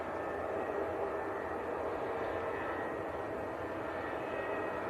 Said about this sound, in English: British Airways just in from London Heathrow.